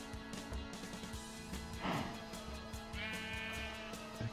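Bleating sheep in a video game: a few wavering, nasal bleats rise over a quiet, steady game background, with one stronger bleat near the middle and a higher tonal call toward the end.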